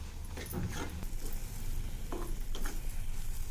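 Flour is stirred into a thick, lightly cooked jaggery syrup in a pan for coconut and chana dal laddus, giving a close, continuous sizzle with scraping stirring strokes and soft thuds, and no talking.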